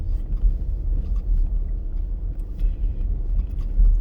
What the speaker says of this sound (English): you see these bumps I'm going through right now